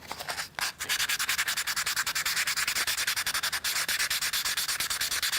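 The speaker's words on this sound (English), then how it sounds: "I recommend you to give it some sanding" Rapid, rhythmic rasping of sandpaper rubbed back and forth on a small hard part of a model V8 engine kit, close and continuous after a brief pause near the start.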